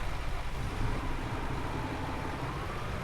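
A tractor engine in Farming Simulator 19 runs with a steady, even drone throughout a short stretch, fairly loud and close, with no other sounds or talk.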